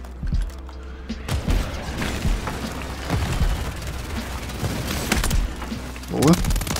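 Gunfire in the video game Warzone 3 comes as scattered shots and short bursts of booming reports over a busy, noisy in-game background.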